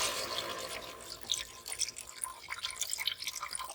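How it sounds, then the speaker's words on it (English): Beef broth is poured into a soup pot, giving a faint, irregular trickling and splashing of liquid with small drips, heard alone at low level. "we're just going to take our beef broth. Yeah, beef broth. And we're going to pour that in."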